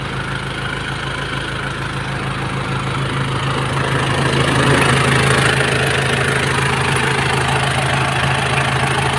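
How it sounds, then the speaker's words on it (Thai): A Nissan Big-M pickup truck with a BD diesel engine idles in a steady, even rumble that runs unbroken and fairly loud throughout, with no voices over it. "เครื่องเดินเบาปกติเลยคันนี้"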